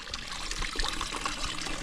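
Stream water pours and trickles into an empty bottle on a mountain hike, a steady close gurgling fill with no speech.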